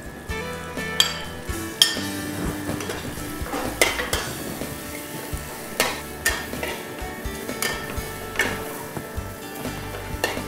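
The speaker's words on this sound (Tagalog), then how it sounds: "Igisa lang po natin ng bawang. Then sibuyas." Garlic and then onion sautéed in a pan, with a continuous low sizzle broken by regular sharp clinks and scrapes of a utensil against the pan, close and fairly quiet.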